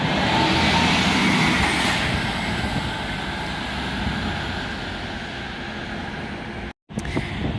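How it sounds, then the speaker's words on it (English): A Scania bus pulls into Gloucester Transport Hub with a steady loud engine rumble, close by and continuous, easing slightly toward the end with a brief cut near the finish; no voices. "This is a Scania Cateno Levant 3A, probably arriving on a 444 from London."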